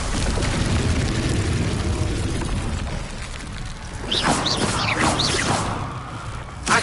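Incendio fire spell cast in the video game Hogwarts Legacy: a dense, roaring burst of flame and rumbling impact noise, loud and continuous, with crackling swishes rising toward the end.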